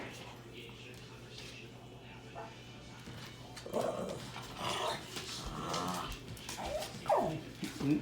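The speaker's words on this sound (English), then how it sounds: "You got the dogs playing tug of war." Two dogs play tug of war indoors on a snowy day, with growls and scuffling bursts rising in the second half over a steady low hum, while a person talks through much of it.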